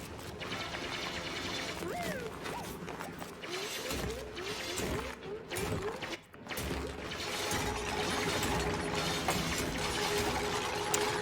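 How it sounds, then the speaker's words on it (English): Busy Oxygen Not Included game audio: continuous mechanical digging clatter and crunching hits as colonists dig through material, layered over a steady background ambience for about eleven seconds. "the sound effects when they would dig through something and they would hit the ground"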